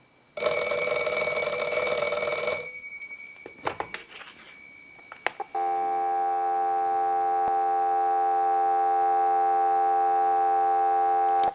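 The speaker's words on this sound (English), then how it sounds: "we'll give you some dial tone" A final burst of Western Electric 302 rotary telephone bell ringing and a few clicks give way to a steady, continuous dial tone humming evenly to the end.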